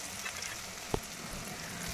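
Garlic paste frying in a pan, a faint, steady low sizzle with one brief knock partway through.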